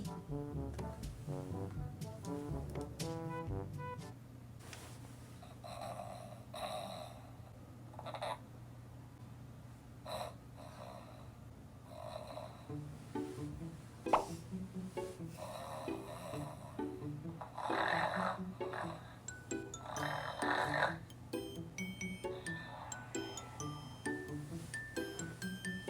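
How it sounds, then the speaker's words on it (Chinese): Loud snoring played from a Bluetooth speaker in a closed bedroom, a faint repeated rumbling snore pattern at first, then mixed with tinkling and clattering noises over a low steady hum, with no one speaking. "现在呢，我们要用这个蓝牙音箱假装我在打跟他一样的呼噜"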